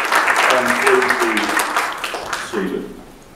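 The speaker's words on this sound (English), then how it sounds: "Give us a big round of applause for Jesus" A church congregation claps loudly at first, the applause thinning and fading as a voice speaks over it toward the end.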